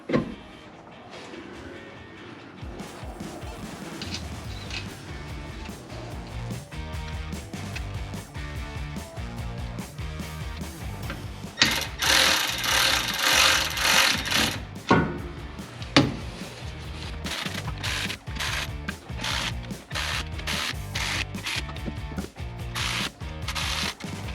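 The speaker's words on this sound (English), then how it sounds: "now that we got those just kind of tightened down with the ratchet" A ratchet tightens the nuts on a rear differential during a limited-slip differential and 3.55 gear upgrade: steady rapid clicking runs throughout, close and moderately loud, with a brief louder clatter in the middle.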